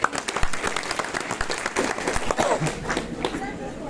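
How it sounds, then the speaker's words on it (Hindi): An audience gives a round of loud clapping, a busy patter of many hands with voices talking over and around it. "एक बार इन सभी लोगों के लिए जो है जोरदार ताली हो जाए।"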